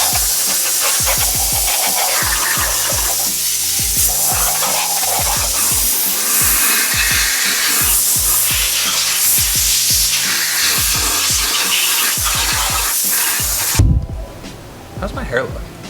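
Clear coat sprays in a continuous loud hiss onto early LS1 806 cylinder heads for a budget V8 build, with rapid regular ticking running underneath before the spray cuts off and a voice follows.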